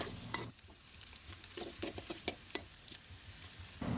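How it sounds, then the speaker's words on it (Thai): Sliced shallots stir-frying in a pan for Thai sweet pork, a quiet sizzle broken by repeated scraping and tapping stirs in an irregular rhythm. "ผัดไปจนกระทั่งหอมแดงเนี่ยเริ่มสุกใสขึ้นมาดีเลยค่ะ"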